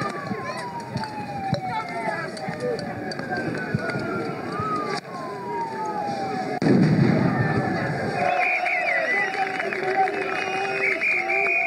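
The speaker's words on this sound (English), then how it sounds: "As you can see, tear gas has been fired by the police." Police fire tear gas at protesters on a Paris street near the Élysée Palace. Loud bangs and launches mix with sirens, running and crowd noise, and people talk throughout.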